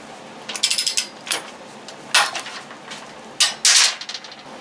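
An Avid Power 12V 3/8-inch cordless ratchet wrench runs on a half-inch grade 5 bolt in a torque test, giving several short, loud bursts of ratcheting clicks with brief pauses between them, close up and free of talk.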